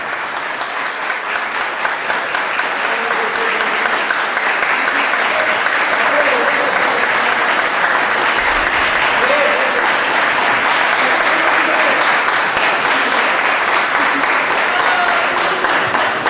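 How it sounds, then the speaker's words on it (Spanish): A large audience gives Hugo and Luis a sustained, dense round of applause at the close of a three-day event, loud and steady throughout with a faint murmur of voices beneath. "Repitamos el aplauso para Hugo y Luis"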